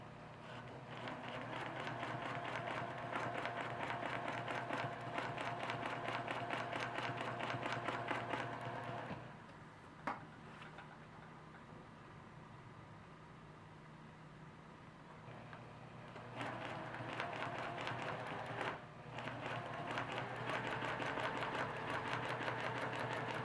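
Steady close whirring of a sewing machine running along a quilt row, with a brief pause near the middle before stitching resumes at the same even pace.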